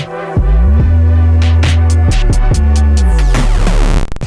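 A hip-hop beat plays loud and continuous, its first section run through a redux bit-crush effect, with a deep bass line and tonal layers before a sweeping transition near the end. No one speaks.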